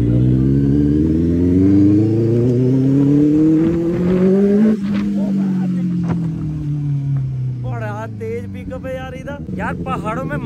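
A Benelli 600i superbike's engine revs loud and close, climbing in pitch for several seconds before dropping back to a lower rumble, then blipping again, with a voice speaking over the end.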